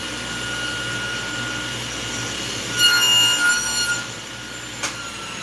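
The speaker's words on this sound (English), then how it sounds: "I'm just going to cut one fake spline groove." A power saw cuts a spline groove in black walnut: a steady machine whine, then a louder rasping cut for about a second, followed by a brief sharp click.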